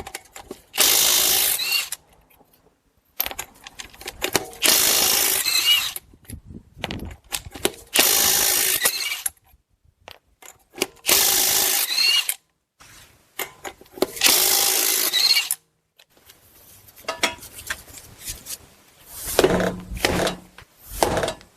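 Bursts of a power impact tool spinning off the 22 mm lug nuts on a Buick Enclave wheel, five loud whirring runs separated by short pauses and clanks, then lighter handling noises.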